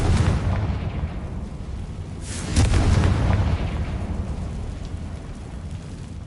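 A deep explosion from a fire spell in a wizarding video game, one loud booming blast that swells midway and rumbles on under continuous background noise.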